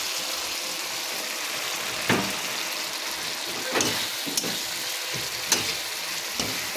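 Capsicum, tomato and onion sauté in spices in a pan with a loud, continuous sizzle. Occasional spatula knocks and scrapes come through as the vegetables are stirred. Nobody talks.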